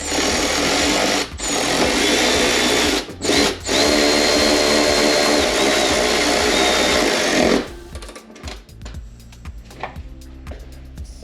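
A power tool buzzes in long, steady bursts, driving headlight screws on a 2022 or newer Toyota Tundra during an Anzo headlight install, with short pauses between runs, then quieter clicks and handling noises after it stops.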